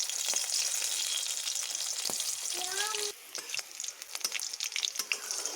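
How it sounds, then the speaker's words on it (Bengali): Black cumin seeds, with a few chillies, sizzle and crackle in hot oil, a close, loud frying hiss with sharp pops and spoon scrapes that turns choppier toward the end. "এখানে আমি শুধু কালো জিরেই ফোড়ন দিচ্ছি।"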